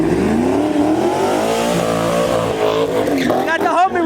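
A Pontiac GTO at a busy car meet revs its engine loudly and close by, the note climbing and falling in long sweeps with a sharp final rise, while people talk over it.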